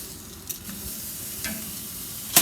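Flank steak sizzles steadily on a Louisiana Grills Kamado BBQ right after being flipped, a close, continuous hiss with a few faint ticks and no talking.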